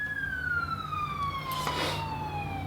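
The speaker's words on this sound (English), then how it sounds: "And I like the newer, freaking sirens." Police car siren heard faintly at a distance: a single long wail sliding slowly downward in pitch, steady over a low background rumble.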